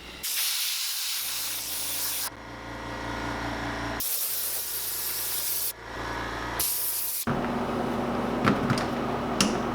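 Clear coat sprays onto a fishing spinner bait in bursts of steady close hiss, stopping briefly between passes, with faint clicks near the end.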